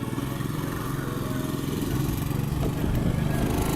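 A small moped or light motorcycle engine drones steadily nearby, passing by continuously and growing slightly louder toward the end, with no speech over it.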